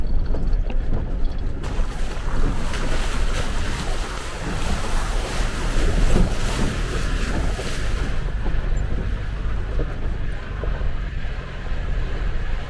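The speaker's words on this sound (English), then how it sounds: "Just after a few minutes traveling up the road, we found our first water crossing." An off-road vehicle fords a water crossing on a forest road in the Trinity National Forest, California, with loud continuous rushing and splashing water and heavy wind buffeting over the microphone.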